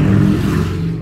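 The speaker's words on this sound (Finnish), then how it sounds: "Oli moottoripyörä." A motorcycle engine drones steadily close by in afternoon rush-hour traffic, a low rumbling tone holding for about a second with no voices.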